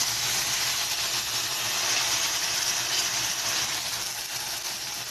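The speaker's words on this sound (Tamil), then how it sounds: "இப்போ இந்த பியூரியை எடுத்து அதே நெய்யிலேயே கொட்டிடுவோம்." Apple puree hits hot ghee in a pan over a low flame, producing a loud, steady broad sizzle and hiss that holds close and continuous throughout, with no voices.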